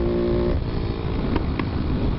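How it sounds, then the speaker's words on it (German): A carbureted motorcycle with a LeoVince exhaust rides on the red sand dunes at Mui Ne, Vietnam, its engine droning loudly up close, with a couple of sharp backfire pops from the exhaust near the end. "geile Fehlzündungen aus dem Leo-Wind Auspuff"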